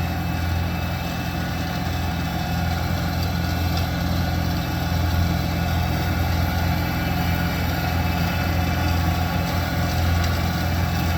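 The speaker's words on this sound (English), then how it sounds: "I'm sure you can hear that this 40-horse tractor is" A 40-horsepower tractor runs a Ferri flail mower in a field, giving a steady, loud low engine drone with a constant mechanical hum that holds evenly throughout, with no talking.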